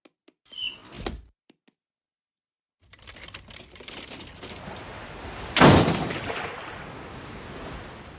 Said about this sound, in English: Can you open the sliding door?